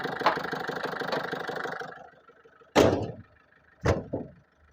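A 2008 Ford Fiesta diesel idles with a steady, mid-pitched clatter for about two seconds, then shuts off, followed by two solid car door slams.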